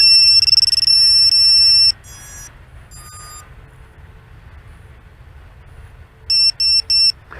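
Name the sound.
drone finder alarm buzzer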